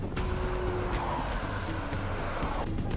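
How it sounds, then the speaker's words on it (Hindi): Cars driving off in a hurry to flee danger, a steady close engine rumble with passing-vehicle noise and a brief hint of tire squeal, no voices. "कोई गाड़ियों में बैठकर भाग रहा है"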